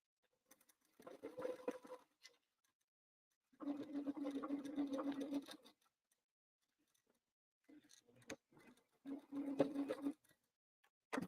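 Sewing machine stitching a tote bag in several separate runs of steady, close mechanical whirring and needle patter, with quiet pauses between them.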